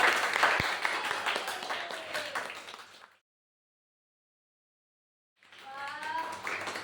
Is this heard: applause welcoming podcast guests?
yes